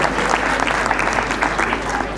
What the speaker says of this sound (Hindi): तालियों से हमारी इन कलाकारों का अभिनंदन कीजिए।